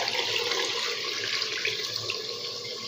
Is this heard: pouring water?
yes